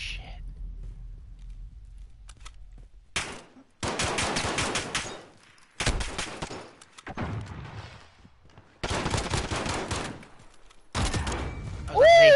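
Bursts of automatic gunfire in Call of Duty, loud and close, arrive in several long sustained volleys broken by short pauses, with sharp single shots between them.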